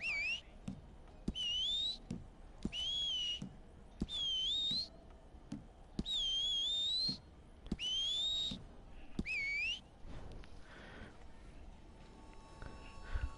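Repeated melodic whistles in Red Dead Redemption 2 Online on PS4 Pro, about eight rising-and-falling bursts in a steady sequence, fairly loud and close, followed by quieter game ambience.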